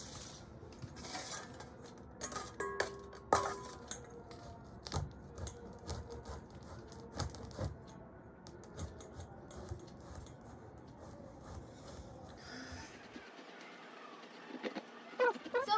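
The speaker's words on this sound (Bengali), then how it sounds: "এবার আমি এগুলোকে গ্রেট করে এর পাল্পগুলো বের করে নেব" A peeled mango is scraped across a grater, producing repeated quiet rasping strokes in an uneven rhythm with occasional light clinks of the utensil.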